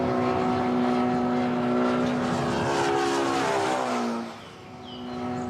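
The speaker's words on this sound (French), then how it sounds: "L'avion produit des ondes sonores qui se rapprochent les unes des autres quand il avance vers nous." A propeller airplane passes close by, its loud droning engine tones sliding steadily downward in pitch as it goes past, then fading and dipping before a slight rise at the end.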